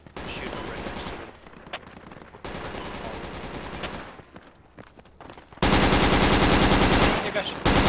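Bursts of automatic rifle fire in the Project Reality military shooter, loud and sustained with short gaps, ending in a dense close-range volley; faint voices in the background.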